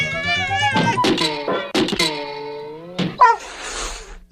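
A cartoon cat sound effect of several drawn-out, wavering meows with sliding pitch, punctuated by thumps and knocks and ending in a noisy burst, loud and close.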